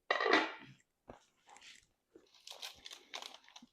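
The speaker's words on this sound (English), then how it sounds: "You can hear the crunch." Crunchy Brunswick stew food crunching in several short, close bursts, a loud crackle at the start followed by quieter crisp crunches and rustles, with no talking.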